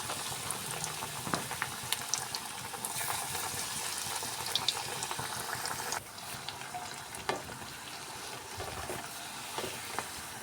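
An egg and flour snack fries in hot oil, a steady bubbling sizzle heard close with occasional clinks and stirring knocks, with no voices.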